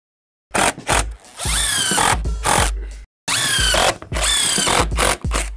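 A power drill whirs loudly in several long bursts, rising in pitch as it drives a screw at an angle into wood on a deck railing, with short gaps between runs.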